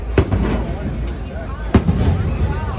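Fireworks burst over a marina during a July 3rd, 2025 show, with a few sharp distant booms and crackles over a steady crowd murmur and talk.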